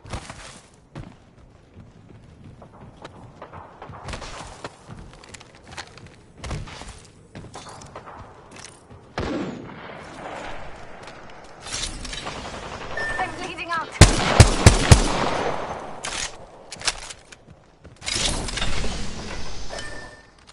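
Gunfire in Apex Legends bursts out in scattered single shots and rapid clusters, peaking in a loud flurry near the middle, with game voice lines and other in-game sounds between the volleys.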